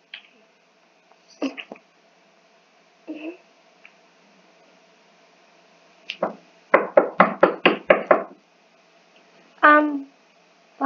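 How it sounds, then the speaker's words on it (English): Knocking on a door comes as a quick burst of six or seven sharp raps, with a few isolated knocks and soft taps around it in an otherwise quiet room. "Flowershine, I hear knocking on the door"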